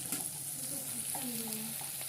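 Vegetables such as eggplant and potato fry in a little oil with a soft, steady sizzle while being stirred, and faint squeaky scrapes come through as they move in the pan.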